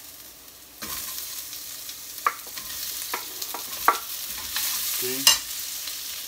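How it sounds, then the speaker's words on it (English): Onions dropped into hot oil in a pot for a goat stew, a sudden sizzle bursting up then settling into steady frying with scattered scraping stirs and clinks, and a brief spoken word. "I'm gonna add onions."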